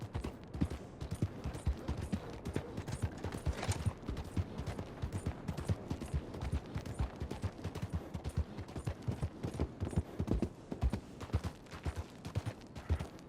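Horse hooves clip-clopping in a video game as a horse is ridden near a mine in Annesburg, a steady fast run of hoofbeats repeating throughout, fairly quiet and with no voices.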